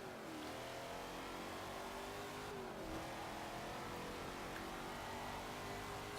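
Shelby Cobra engine in Forza Motorsport 7, a steady droning rev that climbs and drops through a couple of gear changes, heard alone at moderate, even volume.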